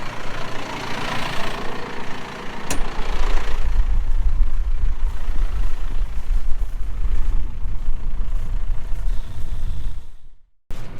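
A farm tractor engine runs close by with a deep, steady rumble that grows heavier after a few seconds, then cuts off abruptly near the end.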